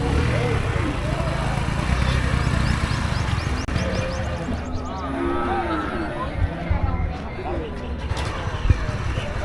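Cattle moo through the din of a busy buffalo market at Nainamalai in Namakkal, the calls rising out of constant crowd chatter and bustle close by.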